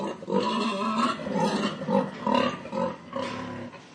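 Pigs inside a pig barn grunt and squeal in rapid, overlapping bursts, a loud, busy chorus of snorts and harsh calls close by with no talking.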